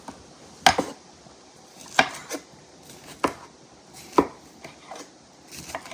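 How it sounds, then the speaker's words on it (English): A knife chops peppers on a cutting board in about five sharp, spaced strikes, close and clear against a quiet kitchen background. "Let's cut the rest of these peppers up."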